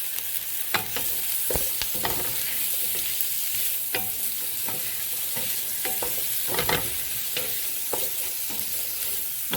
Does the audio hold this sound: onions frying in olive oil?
yes